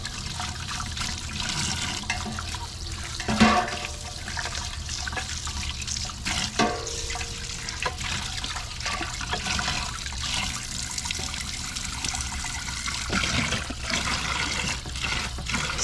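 Outdoors, large items are washed with homemade lard soap and collected rainwater, making continuous close splashing and running water with occasional louder sloshes.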